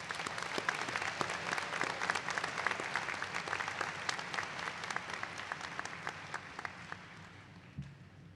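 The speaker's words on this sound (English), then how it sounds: "Let's have another round of applause for this class." A graduation ceremony audience claps for the class of 2023, dense overlapping applause from a large indoor crowd that gradually thins and fades toward the end.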